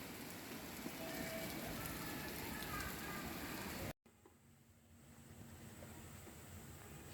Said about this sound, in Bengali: অনেক জোরে বৃষ্টি হচ্ছে